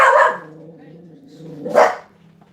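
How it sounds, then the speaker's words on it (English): A dog barks twice, close and loud, with a pause between the two gruff barks and a low growling tone underneath. "There's another dog out there."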